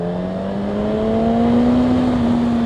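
A Yamaha FZ1 motorcycle engine pulls under acceleration, its steady whine climbing gradually in pitch. It is loud and close throughout, with no other sounds.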